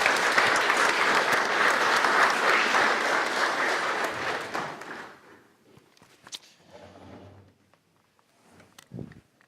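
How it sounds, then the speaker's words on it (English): A seminar audience on cyber defense applauds its panelists with a loud, sustained burst of dense clapping for about five seconds, which then stops abruptly, leaving scattered rustles and small thumps. "And applause to the panelists."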